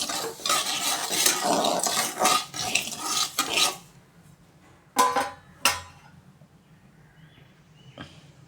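Pearl millet (kambu) dry-roasted in a pan while being stirred, with scraping and clattering strokes that are loud for the first four seconds, then a few isolated scrapes and a faint tap, with no talking.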